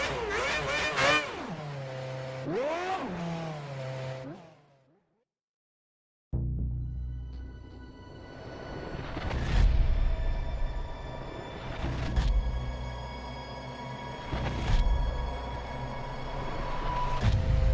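Formula 1 race car engine in a racing video game at the Turkish Grand Prix, revving up through rising pitch sweeps, then cutting to silence before firing back with a loud, sustained engine drone punctuated by sharp blips.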